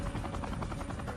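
A Sikorsky UH-60 Black Hawk helicopter flies with a rapid, rhythmic rotor thump, loud and steady over a brief moment.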